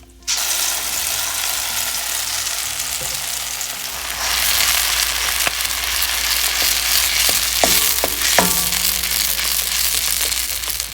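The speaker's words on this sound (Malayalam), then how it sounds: "അരപ്പ് ഈ എണ്ണയിൽ കിടന്ന് നന്നായിട്ട് മൂക്കണം" Ground masala paste fries in hot oil with mustard seeds and curry leaves for a Kerala dry prawn pickle, a loud continuous sizzle broken by sharp stirring clicks and scrapes.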